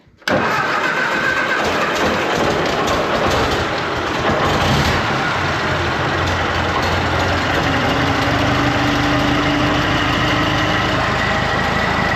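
A VW Bug engine with a growly generator fires up and keeps running, a loud, steady, rough idle with a whiny overtone that holds close and unbroken throughout.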